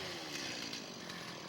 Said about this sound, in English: Okay, pass me that chainsaw.